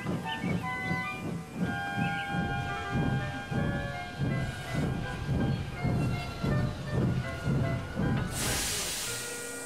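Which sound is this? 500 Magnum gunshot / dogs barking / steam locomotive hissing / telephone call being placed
steam locomotive hissing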